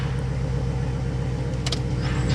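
A 5.7 Hemi engine with about 60,000 miles idling in a steady low rumble, close and even, with a brief higher clatter near the end and no talk.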